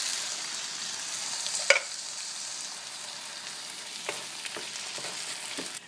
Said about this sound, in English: So the tomatoes are going in.